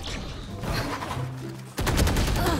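Gunfire in the video game Valorant: a stretch of muffled firing, then a sudden loud burst of rapid shots near the end, close and sharp, no talk.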